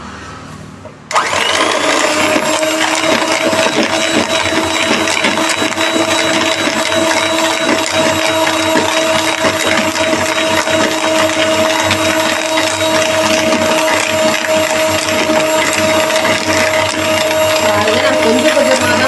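An electric beater whirs steadily as it beats powdered sugar for a vanilla sponge cake, a loud continuous motor hum that starts after a second of quiet and runs unbroken to the end.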